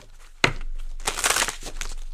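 Cards are shuffled in a few quick papery riffles and flutters, close by, with short pauses between bursts.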